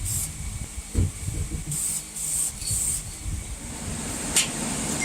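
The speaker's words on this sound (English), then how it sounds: "You can also spray them with a gun. We're doing this one with cans." Aerosol spray cans painting a Ford 302 engine block outdoors: several hissing spray bursts, close and steady, between soft rubbing and handling noises, with no talking.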